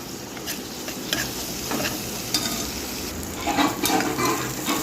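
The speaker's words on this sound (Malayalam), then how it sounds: "ആ ഉള്ളിയെല്ലാം ഒന്ന് മൂത്തിട്ട്" Steady sizzling of onions frying in a pressure cooker, with occasional scraping and clinking of a spoon stirring through it.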